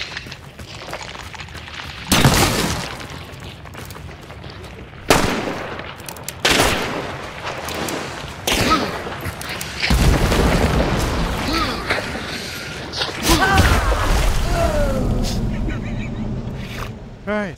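Gunfire rings out in a shooter video game: loud booming shots and bursts arrive in irregular clusters with echoing tails, mixed with louder rumbling blasts, while players talk over the action.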